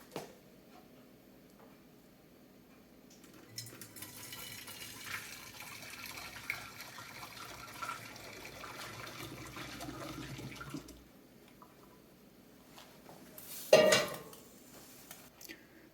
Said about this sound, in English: we're gonna go ahead and gently pour this into our flask